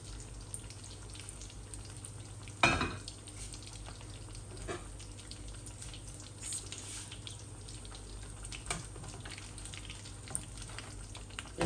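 Potatoes fry in a pan with a steady, quiet hiss and sizzle, marked by occasional soft clatters and ticks, and no talk.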